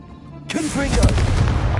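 Confringo fire-blast spell going off in Hogwarts Legacy, a sudden loud burst after a brief lull, then a sustained crackling roar.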